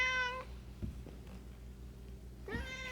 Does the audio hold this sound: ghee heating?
no